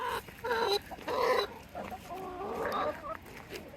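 A rooster clucks in several short bursts with brief pauses between, fairly close and moderately loud, with no talking.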